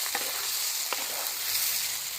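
Masala kundri (ivy gourd) curry drying out in a pan, a faint steady sizzle with a few soft stirring taps, quiet and without voices.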